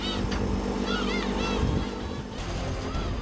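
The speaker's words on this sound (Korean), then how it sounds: "파도는 점점 세지고 바다는 어두워지니" Rough sea waves building around a fishing boat working for spring webfoot octopus, a steady loud wash of surf and wind with a few honk-like calls, continuous throughout.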